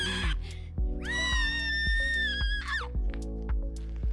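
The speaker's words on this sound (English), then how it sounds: "We have a screeching monkey" A screeching monkey at a wildlife park in Glenrowan gives one long, loud, high wavering shriek lasting over a second, with rhythmic low thumps and other animal calls around it.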